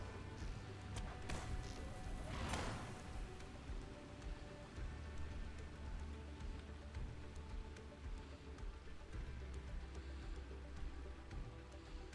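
Rushing waterfall in a video game, a steady broadband splashing roar that holds level throughout, with a few brief louder splashes near the start.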